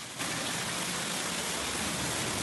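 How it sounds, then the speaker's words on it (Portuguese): Heavy rainstorm with hail and strong wind in Rio de Janeiro: a dense, steady hiss of downpour starts abruptly and stays loud and unbroken throughout. "A mudança de tempo dessa segunda-feira trouxe ventania e até chuva de granizo."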